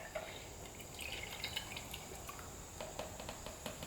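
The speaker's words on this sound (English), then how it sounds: "Pour it in the gun." Liquid primer trickles and drips into the cup of a paint spray gun, a quiet, steady pouring with faint splashy dribbles over a constant high background hiss.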